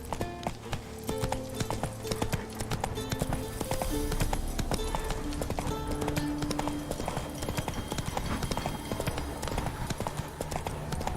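Roach the horse galloping in The Witcher 3, a fast continuous rhythmic clip-clop of hooves with game ambience and music underneath, fairly loud and close.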